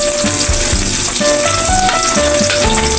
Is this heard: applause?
no